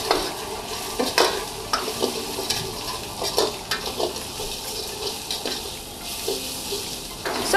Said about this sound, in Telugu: సో ఓన్లీ ఒక ఉల్లిపాయ, 2 పచ్చిమిర్చిలు అయితే తీసుకొని ఫ్రై చేస్తున్నాము గీలో